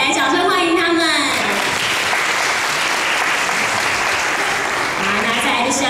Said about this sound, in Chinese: 来，掌声欢迎他们。